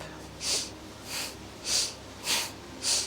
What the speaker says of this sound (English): Make your inhales and exhales a little bit sharp